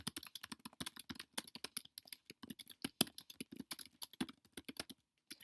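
Rapid typing on a computer keyboard, a quick irregular run of sharp key clicks close by with brief pauses between bursts and no talk over it.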